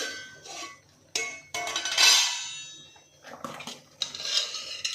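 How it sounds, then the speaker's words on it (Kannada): Metal pots, ladles and dishes clink and clang in a home kitchen as cooked avarekai bassaru, a bean curry, is poured into a bowl, with several sharp close knocks separated by quiet gaps. "ಈಗ ಒಂದು ಬಟ್ಲಿಗೆ ಬಗ್ಗಿಸ್ಕೊತಾ ಇದ್ದೀನಿ"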